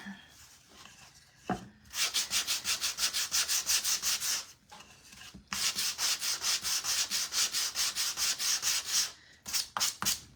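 Sandpaper rubs on a small wooden scarecrow craft in quick, rhythmic back-and-forth strokes, two long close runs separated by brief pauses, with a few short strokes at the end.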